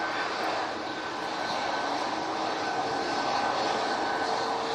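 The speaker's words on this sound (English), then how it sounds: "the Ryanair Max coming" A Ryanair Boeing 737 Max jet coming in to land gives a steady, broad engine roar that holds at an even loudness throughout, close by and with no voices.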